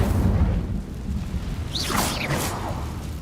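An Incendio fire spell cast in Hogwarts Legacy: a soft whooshing burst of flame with a rising and falling swirl, moderately loud over a low rumbling background, no voices.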